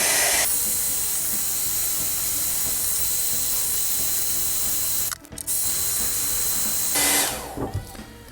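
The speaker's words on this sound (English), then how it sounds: "So what I have is the hair dryer. It's gonna get it hot." A hair dryer blows steadily to heat the sticker adhesive on a Bullseye bike hub, a loud continuous whooshing hiss that cuts out briefly and returns, no speech.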